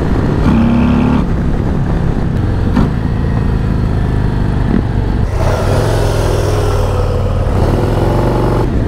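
A 2024 Harley-Davidson Road Glide CVO ST motorcycle engine running loud and close, its deep rumble rising and falling as the throttle is blipped and revved.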